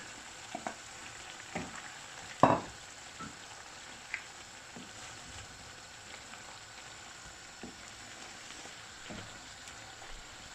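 Spinach and paneer fry in a pan for palak paneer, giving a steady low sizzle with a few soft stirring knocks and one louder clatter early on, heard alone.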